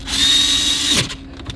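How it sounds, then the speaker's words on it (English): A power drill whirs at high speed for about a second, then winds down abruptly, followed by a few faint clicks, during a 2016-2018 Nissan Altima radio installation. "this is not the best drill in the world."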